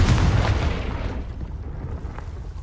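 A Confringo spell explosion in Hogwarts Legacy, a loud booming blast with a heavy low rumble that decays over about a second, followed by a quieter secondary crackle.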